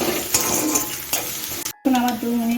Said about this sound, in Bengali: পেঁয়াজ রসুন লঙ্কাটা আর একটু দু মিনিটের মতো ভেজে নিচ্ছি